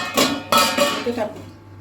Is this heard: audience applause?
no